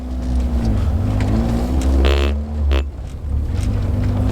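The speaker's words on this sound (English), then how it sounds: "I'm throttling it really lightly just in case something fucking breaks." Peugeot 205 GTi Mi16 with a suspected fault driven under light throttle, the engine humming steadily with a brief rise around mid-clip amid road noise.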